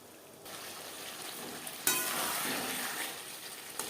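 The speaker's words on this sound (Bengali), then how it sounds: "ফুলকপির সাথে আলু আরও দু তিন মিনিট নাড়াচাড়া করে দেব" Potatoes and cauliflower stir-fried in a pan over high to medium flame, a steady close sizzle with spoon scrapes that grows louder partway through, no talking.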